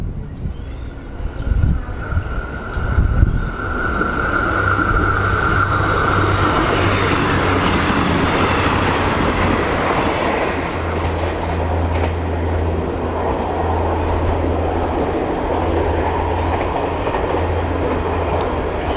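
A train led by NKF 1245 rumbles steadily past at close range through platform 2 of Ban Ma railway station, Thailand, a low droning hum with rattling wheels and a rushing wash of noise that stays loud throughout.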